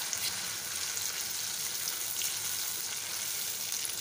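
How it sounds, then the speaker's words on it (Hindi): Tomato puree frying with spices, ginger and garlic in a pan gives a loud, steady sizzle and crackle that runs unbroken, with no voices. "अदरक लहसुन डाल के मैं अच्छे से भून रही हूँ"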